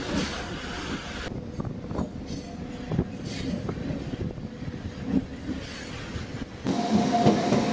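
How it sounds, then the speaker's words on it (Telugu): Aboard a MEMU train on the Vijayawada–Bhadrachalam Road route after leaving Pandillapalli, a low rolling rumble carries occasional clicks of wheels over rail joints, swelling louder near the end. "పందిళ్ళపల్లి నుంచి మన ట్రైన్ బయలుదేరిపోయింది."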